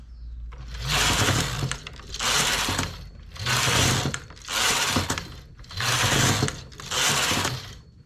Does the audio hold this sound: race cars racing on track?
no